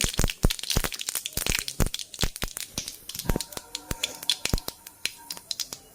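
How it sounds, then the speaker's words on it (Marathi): Mustard seeds and cumin splutter in hot oil, a dense burst of sharp popping crackles that gradually thins into scattered pops, close by and loud with no talk. "तेल छान गरम झाल्यात मोहरू टाकून घेऊ"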